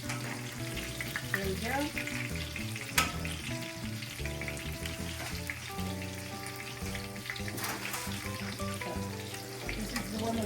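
Breaded chicken parmesan sizzling steadily in hot olive oil in a pan, a continuous crackling fry with a voice speaking briefly over it.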